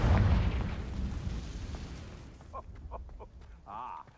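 A Confringo blasting spell goes off in the Hogwarts Legacy video game, heard as a loud, broad rumbling explosion right at the start that decays over a couple of seconds, followed by quieter game sounds and a short voice-like tone.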